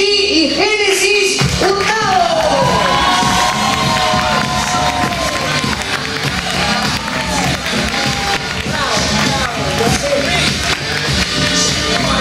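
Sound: applause and cheering

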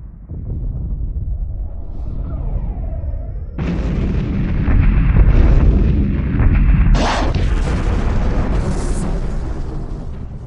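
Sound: ship battle explosions and fire from a Homeworld-style video game

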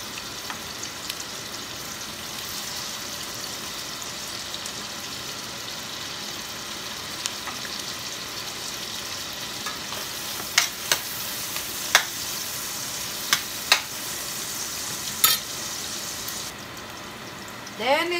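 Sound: onion frying in a pan, for tofu with mixed vegetables

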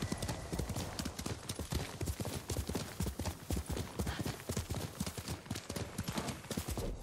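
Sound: horse galloping hooves in video game Ghost of Tsushima

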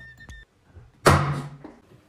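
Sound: toy soft-bullet pistol firing

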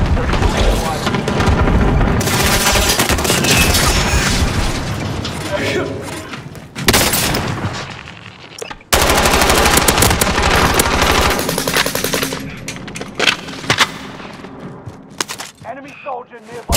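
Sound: gunfire in Call of Duty Warzone video game

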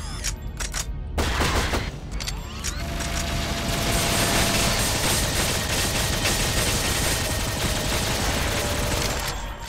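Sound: minigun firing in the video game Shadowgrounds

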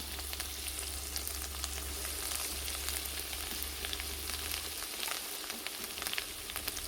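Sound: frying onion, coconut and ginger paste in oil

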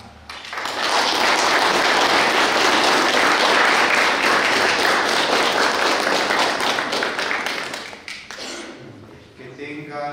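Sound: applause for birthday celebrant Doris

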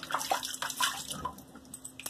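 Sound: running water rinsing shaving soap off

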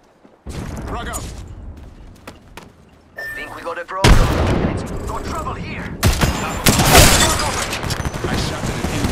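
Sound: gunfire from the video game Apex Legends

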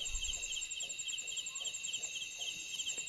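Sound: unidentified bird calling at night in forest

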